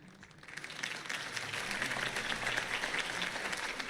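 Steady crowd applause in the video game Batman: The Telltale Series, a dense wash of clapping that swells in and holds at moderate volume without voices.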